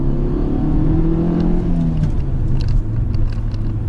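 A Fiat Egea Cross 1.4 engine revs loudly and close, a deep steady rumble that rises and falls in pitch.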